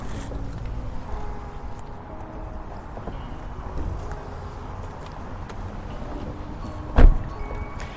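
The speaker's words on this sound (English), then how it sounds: "It's actually an art just getting out of the car" A car door thuds shut once near the end while getting out of a parked Lamborghini, a single close, sharp knock over quiet outdoor background noise.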